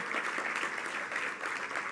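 Audience applause at an alliance signing event between a business association and a navy, a soft continuous patter of clapping heard from some distance and holding steady.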